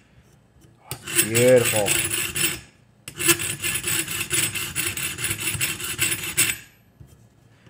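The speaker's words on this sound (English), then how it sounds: "Give it a little bit of work with the fine file" A fine file rasps across metal plier jaws being smoothed for jaw harp repair. Two long runs of close, rhythmic back-and-forth strokes are split by a brief pause, and a voice speaks briefly.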